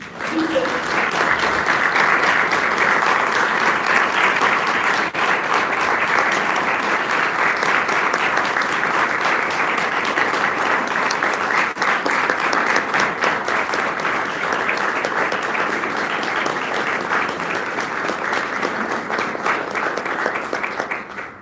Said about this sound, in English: Let's give a round of applause for Cindy Gus-Jensen